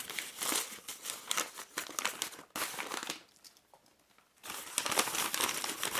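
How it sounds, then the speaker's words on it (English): A wrapped gift being opened, its paper crinkling and tearing in bursts with sticky tape pulled free, a brief quiet pause, then more crumpling close up. "And just unwrapping it."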